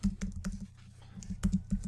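Keys tapped on a computer keyboard in quick, uneven bursts, a handful of close, crisp clicks with a short pause in the middle.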